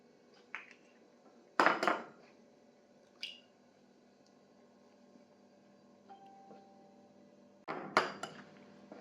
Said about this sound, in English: Start by splitting the eggs because we need only the egg yolk to make Hollandaise sauce